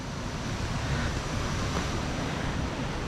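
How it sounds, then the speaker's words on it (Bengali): A waterfall on a trek to Leke Leke Waterfall, heard as a steady, dense roar of rushing water that fills the whole clip without a break, loud and continuous with no voices over it. "আপনারা হয়তো প্রবাবলি শুনতে পাচ্ছেন ঝর্ণাটার সাউন্ড"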